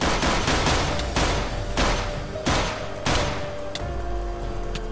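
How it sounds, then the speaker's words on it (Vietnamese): Gunfire in a Minecraft zombie island game at night, with zombies attacking: several loud shots crack over a dense, constant roar of game noise, spaced roughly every half second to second. "Có vẻ như là tiếng súng của mình rất là lớn."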